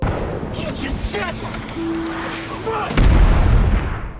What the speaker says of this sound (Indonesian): Hingga tiba-tiba satu mortir pun meluncur.